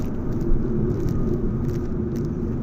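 A Fiat Egea car driven aggressively through curves, with a steady, close engine and road rumble holding throughout and no pauses.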